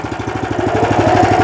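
A Motor Sich two-wheel walking tractor's engine runs close by with a loud, even, rapid pulsing chug and no break in the rhythm.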